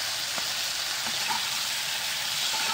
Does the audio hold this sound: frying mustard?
yes